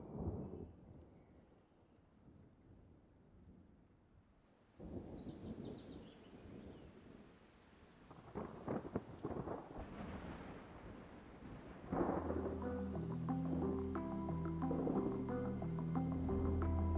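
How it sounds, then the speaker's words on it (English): Heavy rain with rolling thunder in a story scene: a steady wash of rainfall broken by deep rumbles that build and swell, then a loud crack of thunder that sustains into a thick, continuous roar to the end, with no voices. "I'm not afraid of the rain."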